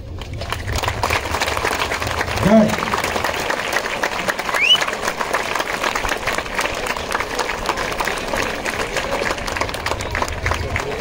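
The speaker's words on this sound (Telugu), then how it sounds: "ఇప్పుడు చప్పట్లే." Students at a mandal-level sports meet on a college sports ground applaud in sustained, steady clapping from a nearby crowd, with faint voices beneath it.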